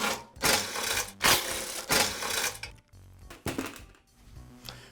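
Four screws being removed from the blower housing of a Briggs & Stratton small engine, heard as a series of close, sharp metallic rattles and ratcheting bursts with short pauses between them.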